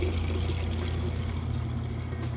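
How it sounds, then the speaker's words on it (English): Water drains steadily from a Maytag top-load washing machine during its drain and spin cycle, a continuous rushing, gurgling flow with a low pump hum underneath, close and unbroken. "You can hear it draining the water out"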